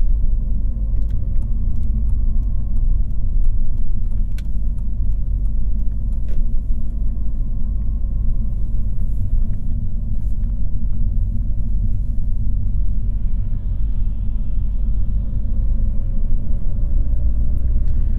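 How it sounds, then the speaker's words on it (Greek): A car with a Selespeed automated gearbox shifts down on its own as revs fall. From inside the cabin, a steady, loud, low engine rumble continues throughout with no talking. "Όταν πέσουν αρκετά οι στροφές, κατεβάζει μόνο του ταχύτητα."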